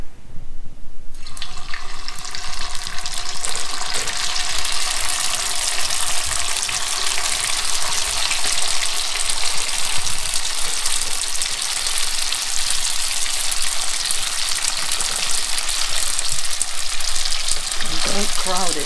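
Gau gee dumplings slipped into hot oil set off a loud, continuous crackling sizzle that starts after a brief quiet moment and keeps bubbling steadily to the end.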